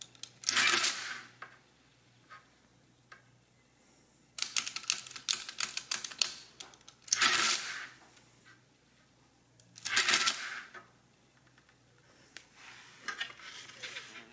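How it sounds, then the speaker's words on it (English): An SCM 1011 CB electric adding machine runs in bursts, each cycle a loud clattering mechanical rattle as number wheels turn and paper is pressed to print, with quieter clicks and a low motor hum between cycles. "So when you add it, these turn to the right number and the paper is then pushed against it."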